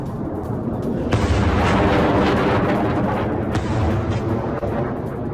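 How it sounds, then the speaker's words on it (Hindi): Interceptor missiles launched over King Khalid Airbase in Saudi Arabia against incoming Iranian strikes: a loud, continuous roaring rumble with heavy low-end booming, swelling around the first second and holding steady without speech. "किंग खालिद एयरबेस के ऊपर इंटरसेप्टर मिसाइलें दागी गई हैं।"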